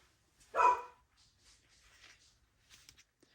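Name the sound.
dog barking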